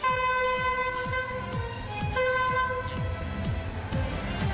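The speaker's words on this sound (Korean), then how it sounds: "우렁찬 경적소를 울리며 새 안동역에 첫 기차가 들어섭니다." A Nuriro Saemaeul passenger train sounds a loud, sustained horn blast as it pulls into the newly opened Andong station, the steady wheel and engine rumble continuing beneath, with a second horn note near the middle.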